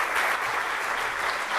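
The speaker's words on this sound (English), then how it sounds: "Big applause, please, for him." An audience at a deep tech summit in Barcelona claps in dense, sustained applause, loud and steady throughout without pause.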